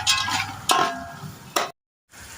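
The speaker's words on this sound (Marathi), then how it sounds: "गाजर चांगलं परतून झालं." Finely grated carrot stirred and sautéed in a pan for a vegetable soup, giving a soft sizzle with a few sharp scraping strokes of the spoon, then a brief break before the quiet frying resumes.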